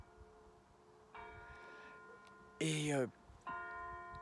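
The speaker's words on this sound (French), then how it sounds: "Les cloches du village voisin sonnent." Church bells of a neighbouring village ring faintly in the distance on a coastal hillside, several separate resonant strikes with a short sharp sound between them and a voice briefly heard.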